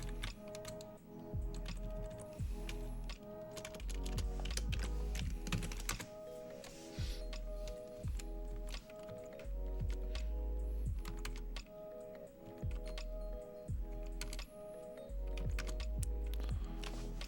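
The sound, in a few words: typing on a computer keyboard to edit a hosts file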